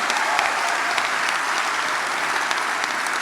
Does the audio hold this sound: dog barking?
no